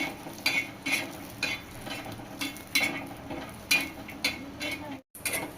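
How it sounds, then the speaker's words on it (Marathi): Coconut roasting in a little oil in a pan, heard as regular scraping strokes of a spatula at a steady, unhurried pace, with a faint sizzle between the strokes. "थोडंसं तेल घालून तर खोबऱ्याचा रंग बदलूपर्यंत आपल्याला भाजून घ्यायचंय"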